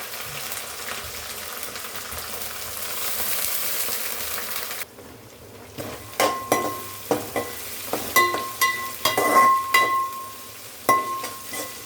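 Cleaned prawns dropped into a hot pan: a steady sizzle at first, then after a brief quiet the frying returns with a series of sharp spattering pops and stirring scrapes, close and fairly loud.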